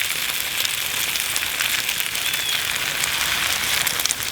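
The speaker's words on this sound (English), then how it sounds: "into this cast iron pan, I'm going to place my egg-soaked bread" Egg-soaked bread for French toast sizzling in a cast iron pan over a campfire, a steady, dense frying hiss that holds evenly throughout without pause.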